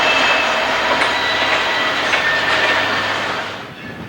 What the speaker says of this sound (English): Heading south is a train of Powder River coal headed up by a trio of SD50s.